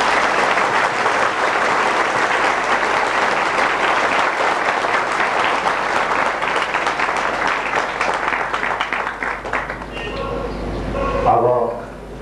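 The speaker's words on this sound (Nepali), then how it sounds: "अझ गडगडाहट तालीका साथ उहाँलाई स्वागत छ" Loud, sustained audience applause fills a hall welcoming a speaker at a spiritual lecture and book launch, dense clapping continuing for about ten seconds before thinning out near the end.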